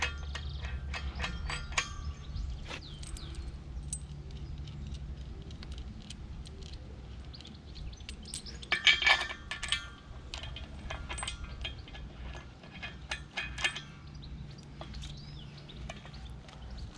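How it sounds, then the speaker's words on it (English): A preset torque wrench set to 150 newton metres clicks as bolts are tightened on the flanges of a Pack Boy off-loading system, a few sharp clicks standing out around the middle over steady low mechanical hum. "The torque wrench we provide is preset to that torque, and you hear it then clicking on the torque"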